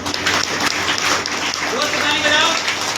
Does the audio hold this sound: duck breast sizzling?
no